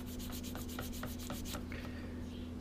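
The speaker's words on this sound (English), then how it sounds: "Get that nice and sanded smooth." Part from a '71 Hemi Cuda model kit being sanded smooth, quick faint rhythmic scratching strokes in a steady back-and-forth pattern, close up and quiet over a low steady hum, with no voices.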